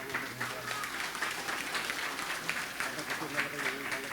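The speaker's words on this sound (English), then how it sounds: "A big, big hand for them, please. Please clap your hand." An audience at the Miss Ilocandia pageant applauds steadily, a dense wash of clapping from a crowd that holds fairly even for about four seconds.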